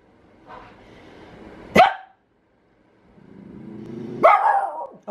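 A dog gives excited barks indoors, two loud bursts with rising whining and yelping between them, close to the listener and with no talk over them.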